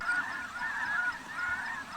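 Snow geese honk in a steady overlapping flock chorus during a spring hunt over decoys, moderately distant and unbroken, with no voices.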